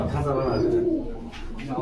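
A pigeon coos in low, throaty rolls, close by, with a voice speaking over it at a pigeon market.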